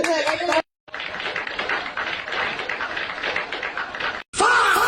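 Hands clap in a quick, steady run of claps lasting several seconds, close and fairly loud, with voices and music heard briefly before and after.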